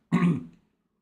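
A single harsh throat clearing, close and fairly loud, from someone still suffering a bad cough during a live-streamed gaming session, rasping briefly before fading into silence.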